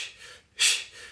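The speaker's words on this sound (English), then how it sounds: "when you're swinging a bell, you have to do a breathing style that's almost like pranayama" Controlled breathing during kettlebell swings: a soft, airy exhale fading out, a brief pause, then a sharp, forceful breath burst followed by a gentler trailing breath, close and alone.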